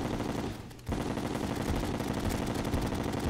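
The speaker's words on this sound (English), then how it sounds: "a wailing of bullets" Rapid automatic bullet fire from a newly acquired mega weapon in Terraria, a dense continuous barrage after a short dip, loud and unbroken to the end.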